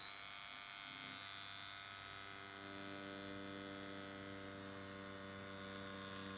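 A Yilong F3 adjustable-stroke tattoo pen machine with a hollow-cup coreless motor runs steadily, giving a continuous, close, even electric hum and buzz with no change in speed and no talk over it.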